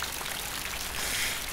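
Steady rain falls across a scene in the Pink Panther video game, a dense, even hiss of drops that holds at a constant level for the whole stretch with no voices over it.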